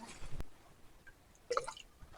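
Water sloshing and dripping as gravel is washed in a gold pan, quiet wet splashes and trickles in scattered bursts, with a louder swirl near the end.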